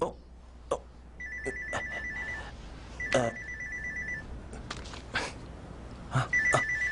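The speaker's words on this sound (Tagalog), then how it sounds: "Sagutin niyo na po ang telepono." A telephone rings in repeated electronic trills, moderately close, with brief clicks and movement sounds between the rings.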